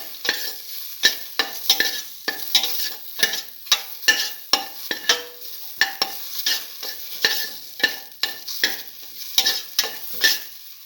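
A spoon stirs a sizzling beef and split chickpea stew in a pan, with steady, rhythmic scraping strokes about once a second over a constant frying hiss, close and clear.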